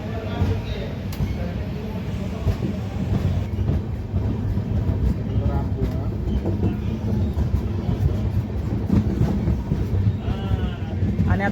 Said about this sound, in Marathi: बार्शी रेल्वे स्टेशनवरून आपली दीक्षाभूमी एक्सप्रेस निघालेली आहे प्लॅटफॉर्म नंबर 1 वरून